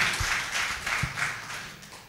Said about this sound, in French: Finalement, oui, on peut applaudir